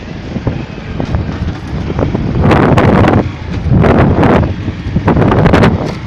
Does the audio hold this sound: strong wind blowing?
yes